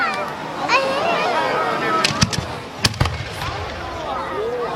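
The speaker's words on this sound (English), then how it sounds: "can we slow down with the fireworks now?" Fireworks at an outdoor display in East Syracuse crackle and whistle, with several sharp, loud bangs bunched near the middle, while people nearby talk over the show.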